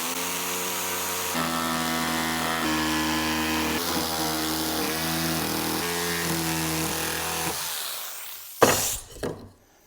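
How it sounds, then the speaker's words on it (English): A bandsaw or jigsaw cuts out homemade camper leveler blocks, its motor holding a steady, harmonic-rich whine for about eight seconds before it winds down and ends in a brief, sharp clatter. "Now we're going to start cutting them out with either your bandsaw or your jigsaw."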